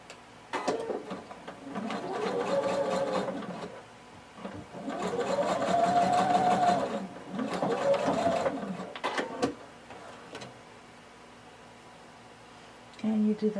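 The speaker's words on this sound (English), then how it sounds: "And I'm going to sew them using 5/8 of an inch seam allowance." A sewing machine stitches the shoulder seams of a tank top dress in three steady whirring runs of a few seconds each, the needle hammering rapidly at an even pace, with quiet pauses between runs and faint handling clicks.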